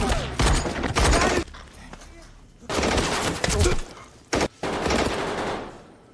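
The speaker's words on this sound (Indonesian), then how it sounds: "Di tengah gempuran itu, Danny dan Wade mati tertembak." Heavy gunfire in an action film about a lone man against a group of terrorists: loud, rapid volleys in two long clusters with a quieter lull between and a sharp isolated burst near the end.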